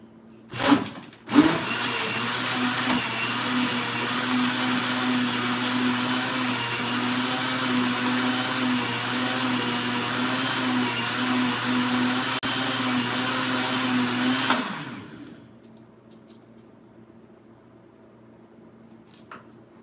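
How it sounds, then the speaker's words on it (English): An electric mixer blends a homemade caramel frappe, a loud continuous whirring drone after a couple of knocks, running steadily for about thirteen seconds before cutting off and leaving near silence. "Want a big mixer?"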